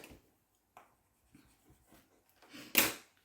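A pen makes a small reference mark on paper while a recipe folio is being decorated as a papercraft project: a single faint, brief scratch near the end, after quiet handling rustles.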